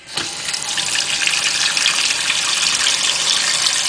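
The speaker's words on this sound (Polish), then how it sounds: "Dolewamy wody na full." Tap water gushes steadily into a pot holding beef tripe, a continuous bright rushing pour that starts abruptly and stays loud and even throughout, with no talking.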